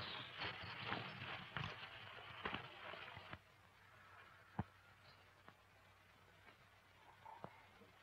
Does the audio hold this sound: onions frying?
no